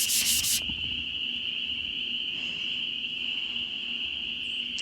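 Sandpaper rubs continuously in the Nancy Drew video game: a close, steady scraping texture that holds evenly throughout, with no talking.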